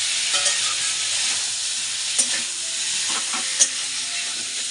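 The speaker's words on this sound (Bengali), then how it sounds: "আর এটা একটু মাখা মাখা তরকারি করব" Potato curry sizzles steadily as it fries in a pan in a home kitchen, with a constant hiss of oil and a few soft clinks and scrapes of stirring.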